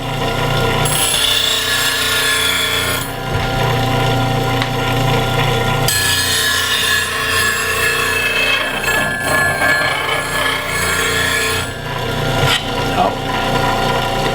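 A bench grinder runs steadily at a sharpening station, a woodturning tool's point pressed against the wheel, producing continuous loud grinding and rasping with brief breaks where the tool is lifted and repositioned.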